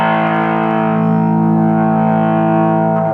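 An electric guitar plays through its neck pickup with the tone rolled back: one sustained, warm, overdriven chord rings loud and steady for about three seconds before cutting off sharply.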